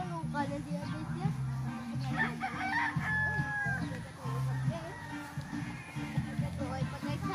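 A rooster crows clearly once amid steady clucking from chickens at a poultry farm, close and fairly loud, with a person talking alongside.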